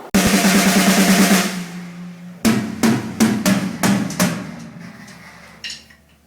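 A drum struck beside metal sheeting at the back of a kit, with the sheeting rattling like an extra snare: a dense sustained burst of hits, then five or six sharp, close strikes, each with a buzzy metallic decay.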